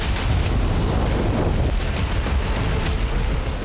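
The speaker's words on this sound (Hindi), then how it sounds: "L-70 एयर डिफेंस गन का सबसे बड़ा एक्शन" An L-70 air defence gun fires in a loud, dense barrage of rapid booming shots that run together over a constant roar, close and sustained throughout with no voices.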